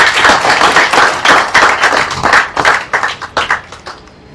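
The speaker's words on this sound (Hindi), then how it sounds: "तो तालियां मारो।" An audience claps together at a talk by a Haryana-born member of the Frankfurt parliament, loud dense applause that breaks into distinct separate claps before fading out near the end.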